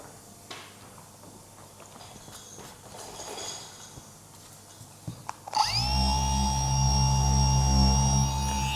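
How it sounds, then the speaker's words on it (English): Faint scraping and handling noises give way to a polisher motor starting up and whirring steadily while dry sanding car paint, close by and loud, for the rest. "It is dry sanding, so you have to also clean it"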